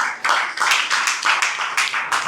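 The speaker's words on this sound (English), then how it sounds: "A round of applause for them." Audience at a school inter-house quiz competition claps for a team, a steady rhythmic round of hand clapping, fairly close and even, with no talk over it.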